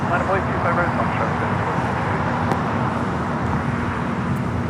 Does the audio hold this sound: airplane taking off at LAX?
yes